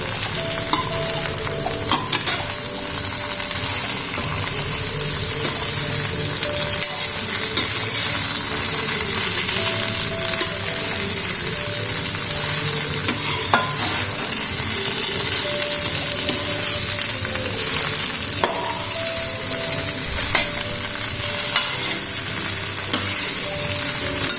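Mixed vegetables coated in a paste of mustard and green chilli fry and sizzle steadily in a pan for a vegetarian chorchori, with a constant close hiss broken by regular clinks and scrapes of a stirring spoon.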